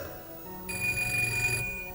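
A telephone bell rings in one sustained burst of bright, steady trilling, loud and clear, with a low hum underneath and no talk over it, set within an Italian comedy phone-call sketch.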